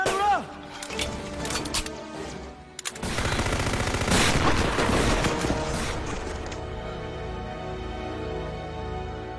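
Rifle gunfire in a movie scene: a rapid burst of loud automatic shots that continues for several seconds and fades into echoing rumble, with shouting voices mixed in.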